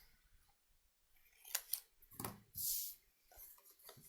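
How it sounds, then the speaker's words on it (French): Scissors cut a gift card at a bevel, heard as a few close, quiet snips and crisp card rustles in an otherwise quiet room. "je vais couper en biseau"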